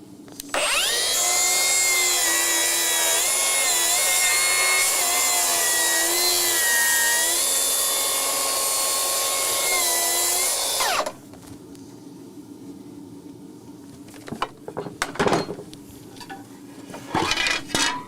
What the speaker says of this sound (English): we'll see if we get a better result from the planer